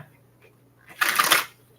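A deck of tarot cards gets one quick riffle shuffle, a short crisp burst of papery flutter lasting about half a second, close up with a quiet room around it.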